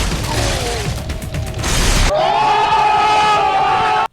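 Enemy power cells are grabbed in the action game Metal Gear Rising: Revengeance, a loud mechanical ratcheting and clanking burst that gives way to a sustained whirring, pitch-sliding electronic tone, with a crowd-like roar beneath.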